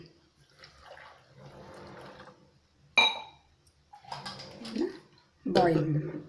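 Water poured into a cooking pot of seasoned buttermilk curry ingredients, heard as intermittent splashing and clinking bursts with a sharp pot clank, between quieter stretches, with speech present.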